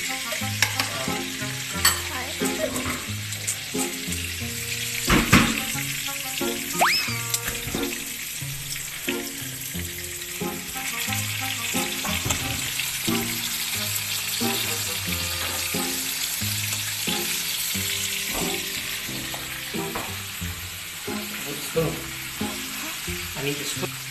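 Pork chops sizzle and crackle steadily in a frying pan, with occasional stirring and utensil clinks and faint talk in the background throughout.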